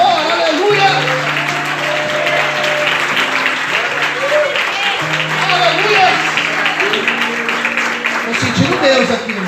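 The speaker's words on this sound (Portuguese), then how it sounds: "Quantos podem dar glória a Deus, aplaudindo e exaltando ao Senhor?" Church congregation applauding steadily in praise, the dense clapping carrying on beneath voices and a sustained organ or keyboard tone.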